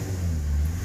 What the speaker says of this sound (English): Let me just rev this up.